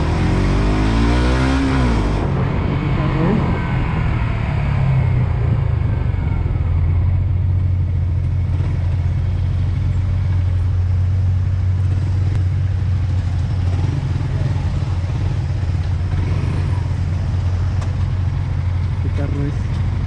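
A car engine rumbles steadily as the car drives past, loud and close. A brief rising rev comes at the start, then a continuous low drone, with a person talking over it.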